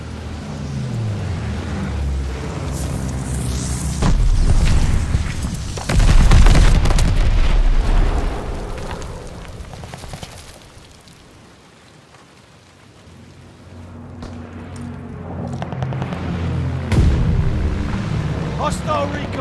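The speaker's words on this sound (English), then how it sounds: "Incoming bomb! Clear out!" Bomb explosions in the Call of Duty Vanguard video game: heavy rumbling blasts and deep booms that swell and fade over a dense, noisy battlefield backdrop, with game voice callouts mixed in.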